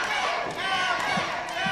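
Crowd at a professional wrestling match in Ellisville, Mississippi, sending up a steady, dense roar of cheering and shouting that stays loud throughout, with no single voice standing out.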